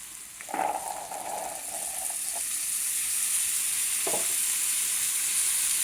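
Tomatoes and chole frying in a pan, a steady close hiss of sizzling oil with a couple of brief stirring knocks, continuous and unbroken, with no one speaking.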